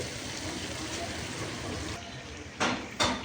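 Mutton gravy with spices sizzling in a pan, a steady close frying hiss throughout, followed by two short louder bursts of sizzle near the end as something is stirred or added.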